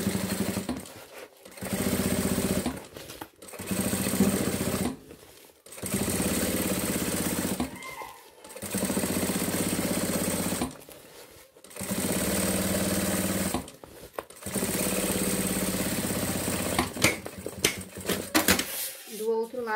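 An industrial sewing machine runs a safety stitch (stitch number 5) through a synthetic, sublimated thermal bag in loud whirring bursts separated by short pauses, with a person talking in between.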